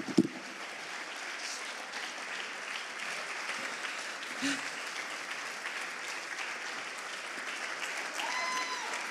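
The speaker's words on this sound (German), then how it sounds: "Euer Applaus." Audience applause at an award show stage, a fairly quiet, continuous patter of many hands clapping across nine seconds, with occasional louder bursts and faint voices and cheers mixed in.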